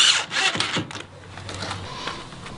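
A power drill drives self-tapping screws into the rail of a Clearview screen door without pre-drilling, giving a few close, uneven bursts of whirring and grinding with scraping in between.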